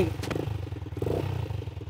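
A motorcycle engine runs nearby with a steady, rapid thumping pulse and some mechanical clatter, holding an even level throughout.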